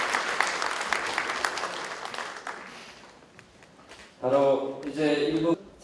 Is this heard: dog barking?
no